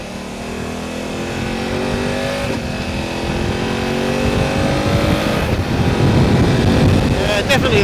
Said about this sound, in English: Let's try that quick shifter again.